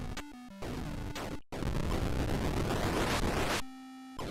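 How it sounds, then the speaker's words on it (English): Loud, continuous explosions from the Atari 800 game Astro Chase roar as a wash of noise, framed by synthetic electronic tones before and after, with a brief cut to silence. "Because they're making the explosions really loud."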